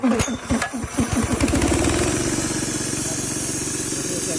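A Honda GX160 engine driving a two-cylinder field air compressor sputters through a few uneven pulls, then catches and settles into a steady, fast, close mechanical chug.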